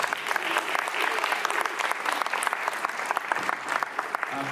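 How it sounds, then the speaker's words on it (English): An audience at a community council mayoral candidates' debate claps steadily and fairly close, a dense patter of hands with some voices murmuring underneath. "I'd like to ask for the audience to hold their applause until the end of the evening"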